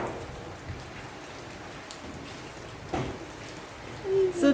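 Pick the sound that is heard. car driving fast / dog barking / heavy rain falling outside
heavy rain falling outside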